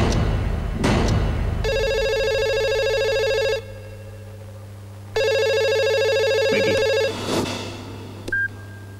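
An electronic telephone rings in two long bursts separated by a pause, loud and close, with a few brief knocks and rustles around them.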